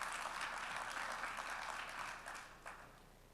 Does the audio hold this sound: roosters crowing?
no